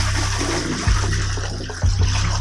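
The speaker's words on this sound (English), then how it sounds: "here's how you flush a toilet." A toilet with no working flusher is flushed by pouring a bucket of water into it, producing loud, close rushing water with a couple of heavier surges as the bowl drains.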